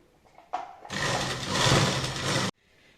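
An electric sewing machine stitches piping around a blouse neckline, starting with a short whir and then running in one steady, close, fairly loud burst of rapid mechanical chatter before stopping abruptly.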